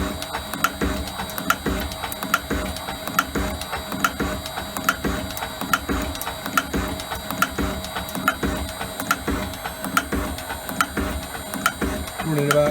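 Elliot 14S metal shaper taking a final fine cut, a steady rhythmic mechanical clatter with repeating strokes at roughly seventy per minute, loud and close with a constant whine throughout.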